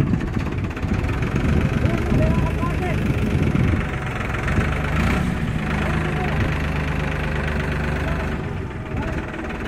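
A Farmtrac 45 Pro tractor engine idles nearby in a field, a steady low rumble with a slight knocking beat that carries on throughout.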